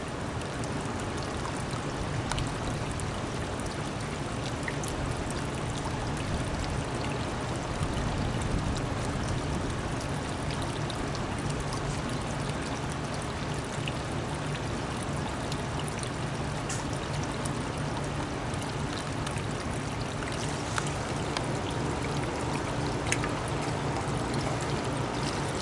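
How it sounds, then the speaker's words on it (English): Kenmore washing machine draining water at an outdoor laundromat, a steady rushing and trickling flow that runs continuously without pause, moderately loud and unbroken, with no talking. "I think the Kenmore's draining now too."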